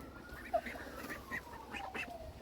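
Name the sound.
Cayuga duck calling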